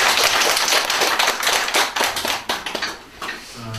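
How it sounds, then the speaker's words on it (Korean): An audience claps after a Buddhist college lecture on the life of the Buddha, with dense, loud applause from a crowd that thins into scattered individual claps and fades out, close and with no talk. "큰 박수 한번"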